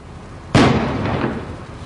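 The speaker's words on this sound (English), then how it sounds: "bomb squad members carefully placed a small explosive device of their own" A bomb squad's small disruption device goes off inside an apartment, firing a shock wave and water: one sharp, loud blast that decays into a rumbling tail over about a second.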